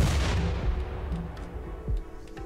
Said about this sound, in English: I just saw an explosion.